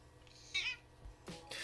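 A domestic cat meows twice in a kitchen where bread is being made, short calls with pauses between them, fairly close and moderately loud, with no talking.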